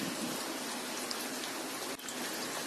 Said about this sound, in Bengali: চিংড়িগুলি গোল্ডেন ব্রাউন কালার করে ভেজে নিতে হবে।